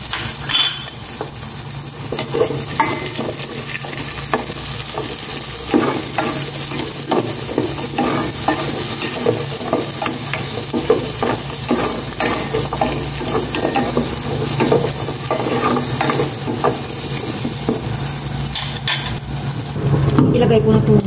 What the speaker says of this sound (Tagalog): Lagay ko na itong sibuyas tsaka sili.